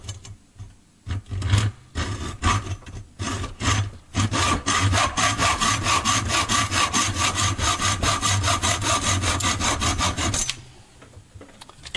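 A hand saw cutting off the tip of a homemade tool for extracting washing-machine drum spiders, with loud, close rhythmic back-and-forth strokes that start hesitantly, then settle into a fast, steady run before stopping.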